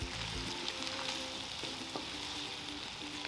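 Sauce stirred into a sizzling Philly cheesesteak skillet, a steady close frying hiss with a few soft scraping strokes of the spoon and a low rumble at the very start.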